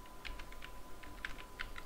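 Quick, light clicking of a computer keyboard as a name is typed into a PDF form field, a steady patter of close keystrokes with no talking.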